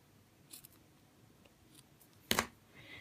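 A single short snip of scissors cutting through card stock for a handmade birthday card, preceded by faint handling rustles in a quiet room.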